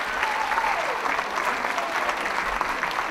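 A senior song contest audience applauds a band with steady, close clapping, while a faint voice briefly carries through the sustained ovation.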